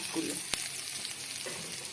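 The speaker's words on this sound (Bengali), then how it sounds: "পেঁয়াজ রসুনটা ভালো করে ভাজা ভাজা হয়ে গেলে আমি দিয়ে দেবো এতে" Onion and garlic fry in oil in a pan before drumstick leaves are added, giving a steady close sizzle broken by one sharp utensil click.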